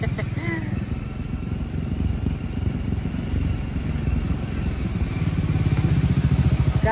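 A Triumph motorcycle engine runs on a rough mountain road in Nepal with a steady low, throbbing rumble that grows slightly stronger toward the end, while someone talks over it.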